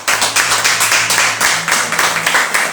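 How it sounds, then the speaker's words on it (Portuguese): A church congregation claps together in praise during a service, producing a loud, steady wash of many hands with a faint pulsing rhythm, close and dense for the whole stretch with no speech over it. "Aplaude ao Senhor,"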